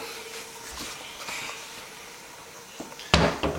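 A door handle turns and a door opens at home, with a faint click midway and a sharper clunk and rattle of the latch near the end, otherwise quiet.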